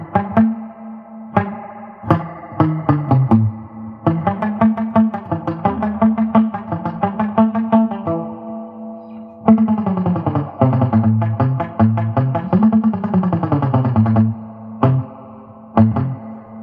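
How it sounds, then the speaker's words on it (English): Guitar chords and single notes ring through the spring reverb of a Roland Cube 80X amp, played loud with short pauses between phrases and a splashy, echoing tail on each attack. "Here's the spring."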